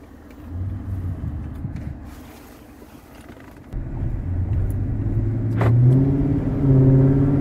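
2014 Dodge SRT Charger with a Corsa exhaust on a test drive, a deep engine rumble that swells under acceleration, drops back, then rises again with rising revs, heard from inside the car.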